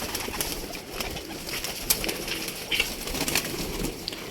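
A female pigeon coos softly nearby in a loft, with low throaty calls set against a busy outdoor background and a few brief sharp chirps from other birds.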